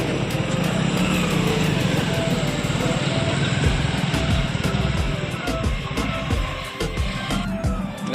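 A Hero Splendor Plus motorcycle on a trial ride outside a Honda showroom, its engine drone steady and fairly loud throughout, with a broad rumble and traffic-like noise around it and no clear voices.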